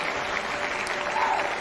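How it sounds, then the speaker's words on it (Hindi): An audience at a DXN business talk applauds, a dense, even burst of clapping filling the short moment without pause. "एक जोरदार ताली DXN के लिए"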